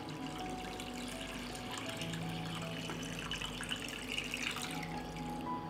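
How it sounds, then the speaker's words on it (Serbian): Water pours steadily into a pot holding a cloth and jars for pasteurizing, at close range, a continuous splashing rush that holds an even level throughout. "I sipam vodu u šerpu do visine poklopca"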